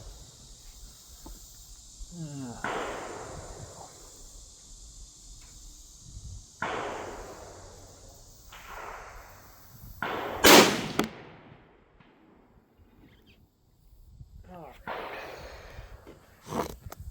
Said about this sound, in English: I'm going to shoot again.